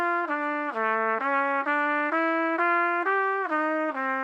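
Trumpet plays a slow exercise of connected notes with a gentle, single-tongued tenuto attack, each held tone steady and separated only by soft articulations, with no gaps. Played alone, close and clear.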